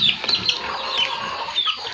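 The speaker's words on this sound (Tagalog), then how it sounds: "Yan, tinutuka ng manok ang mga mangga." Chickens peck and cluck among fallen ripe mangoes on a farm, with soft repeated clucks and high chirps close by throughout.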